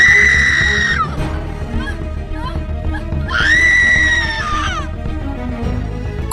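In an animated horror story, a woman named Rama lets out two shrill, sustained screams separated by a few seconds, loud and close over a low, rumbling backdrop.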